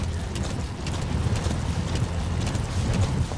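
Horse hoofbeats from D-Horse galloping in the video game Metal Gear Solid V, a steady, loud run of clip-clop strikes over constant game noise, with no talk.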